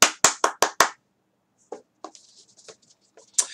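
Five sharp, evenly spaced hand claps ring out close and loud, followed by quieter scattered sounds.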